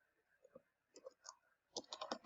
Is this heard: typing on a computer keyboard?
yes